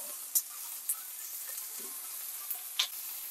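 Steak sizzling in a cast iron pan: a steady, bright hiss with a few sharp pops and crackles scattered through, heard close and alone.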